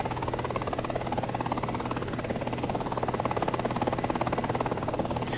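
SA 313B Alouette II helicopter in War Thunder, a steady, loud rotor whir with rapid rhythmic blade chop and engine buzz, continuous and close with no speech.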